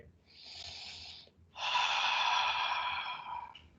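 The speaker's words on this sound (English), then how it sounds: "Take a deep breath, exhale." A deep breath during hatha yoga practice: a steady, audible inhale through the nose, a brief pause, then a longer, louder, breathy exhale, close and alone.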